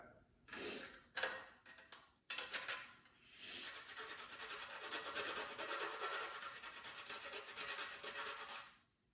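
A cinnamon stick rasps against a kitchen grater in quiet, scratchy strokes, a few short scrapes at first, then a steadier rubbing run.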